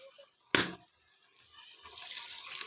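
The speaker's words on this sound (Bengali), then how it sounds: "এবার এর মধ্যে জল দিয়ে দিলাম" Water is poured into a pan of tomatoes cooked down for a fish curry: a sharp clatter, a brief quiet, then a hissing pour that swells and keeps running to the end, close by with no talk.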